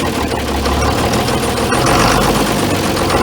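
A John Deere 4010 tractor engine idles with a steady low diesel rumble and rough knocking, swelling into a louder surge partway through as extra fuel is given, close and continuous with no talk.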